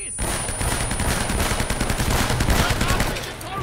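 Sustained automatic gunfire fills an Uncharted game cutscene, a dense, loud, continuous rattle of rapid shots lasting several seconds after a brief quiet start.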